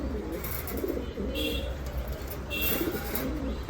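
Red Lahori pigeons coo softly in the background against a steady low hum, with a few faint chirps.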